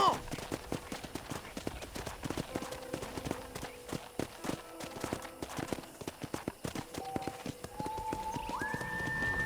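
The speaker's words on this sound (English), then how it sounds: "I picked out a fine horse for you." Horse hooves clip-clop steadily as a horse is ridden around a ranch in Red Dead Redemption on PS5, a continuous rhythmic trot under quiet background talk, with a brief whistle-like tone near the end.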